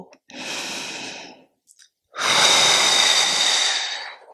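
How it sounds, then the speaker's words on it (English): Deep breaths during a yoga flow, a long exhale followed by a fuller inhale-exhale, close and clear with no talk over them. "Keep breathing."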